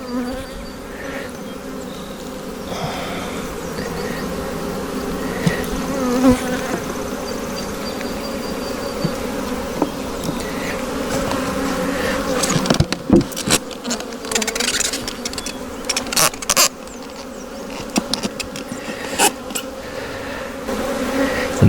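Honeybees from an opened salvaged hive colony buzz in a dense, continuous drone close by, with scattered louder bursts and rustling handling noises growing toward the end.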